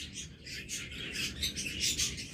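A very tame pet bird kept as one of a pair chirps in quick, bright bursts, close and fairly soft, repeating steadily without any voices.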